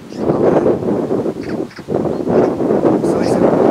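Strong wind buffeting an outdoor microphone, a loud, continuous low rumble with gusts that briefly drop away midway before surging back.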